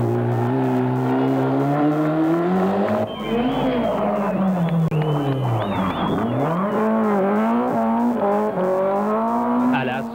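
Two Peugeot rally cars in a 1988 rally racing past, loud engine roar with pitch swoops as they accelerate and shift, under continuous commentary.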